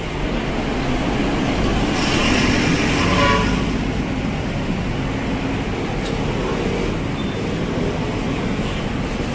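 A loud, continuous rumbling roar of an MRT elevated metro train passing close overhead along EDSA, with a brief horn-like tone partway through.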